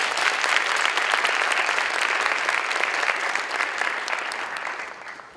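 Sustained audience applause at a gala welcoming a speaker, a dense steady wash of many hands clapping throughout, loud and full, tapering slightly near the end with no talk over it.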